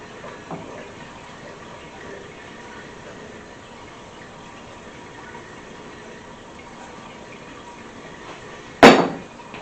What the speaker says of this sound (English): So I'm going to dump my apples into here.